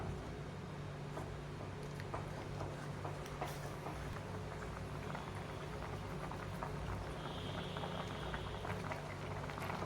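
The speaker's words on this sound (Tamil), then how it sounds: "இன்னும் வந்து ஒரு 5 நிமிஷம் நல்லா கொதிக்கட்டும்" Milk with vermicelli at a rolling boil for semiya payasam, a steady close bubbling and simmering that runs on evenly with no talking.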